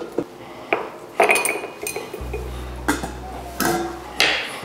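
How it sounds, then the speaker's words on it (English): A square ice cube drops into a glass for a smoked cinnamon apple cocktail, giving a few sharp clinks and knocks of ice against glass amid light handling noise and a low hum. "Now I'm gonna go ahead and add myself one of these square ice cubes."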